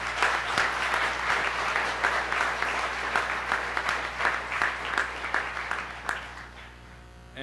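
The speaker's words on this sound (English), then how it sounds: "So they certainly deserve a round of applause." An auditorium audience at a school awards show applauds honored state finalists, a dense steady wash of clapping over a faint electrical hum that gradually thins and tapers off near the end.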